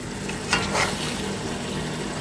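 Beef stewing down in a pot gives off a steady, soft sizzle and bubbling hiss, with one or two brief scraping stirs. The whole sound is close and even.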